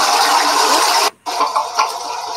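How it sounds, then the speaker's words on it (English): A toilet flushes with a loud, close rush of water that cuts out abruptly for a moment, then resumes as a churning, slightly fluctuating flow. "It's actually a toilet flushing."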